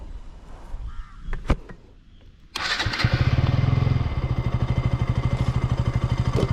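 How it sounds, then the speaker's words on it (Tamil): KTM Duke 200 motorcycle engine doing a cold start: after a quiet stretch with a faint click, it fires loudly and settles into a steady, rapid idle thrum close by. "This is gold start guys."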